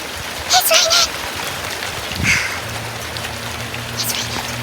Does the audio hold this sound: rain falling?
yes